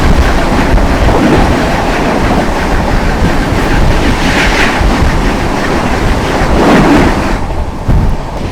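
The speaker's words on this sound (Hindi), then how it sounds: "सामने से आ रही है 1:24:24 न्यू दिल्ली डिब्रूगढ़ राजधानी एक्सप्रेस" The Dibrugarh Rajdhani Express, a New Delhi to Dibrugarh train, passes close and loud, a sustained roar of wheels with rhythmic clickety-clack, no voices.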